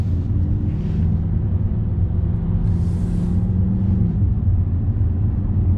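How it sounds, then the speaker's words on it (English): Inside a Mercedes C63 AMG with the secondary catalytic converter deleted and the window closed, a steady deep engine and road drone fills the cabin at a constant level, no talking. "See what the cabin noise is like with the secondary cat deleted."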